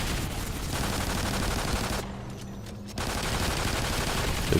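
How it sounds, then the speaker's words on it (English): Pistol fire in Call of Duty: Ghosts Extinction mode, a continuous loud burst of rapid gunfire, briefly dropping out for about a second mid-way before resuming. "So just unloading all of our pistol ammo on here"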